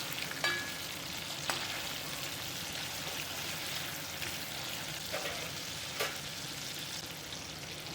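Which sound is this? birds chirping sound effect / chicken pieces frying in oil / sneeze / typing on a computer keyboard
chicken pieces frying in oil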